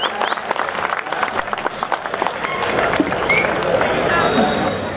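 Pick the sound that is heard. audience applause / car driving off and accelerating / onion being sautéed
audience applause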